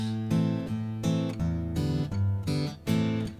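Acoustic guitar fingerpicked over a chord progression, the thumb striking firm root bass notes under lighter plucked upper strings in a steady, close, clear rhythm with no voices.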